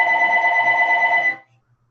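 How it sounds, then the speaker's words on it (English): A telephone rings with a steady electronic trill that lasts just over a second and then cuts off abruptly, leaving near silence with a faint low hum. No one speaks over the ring. "That's another phone."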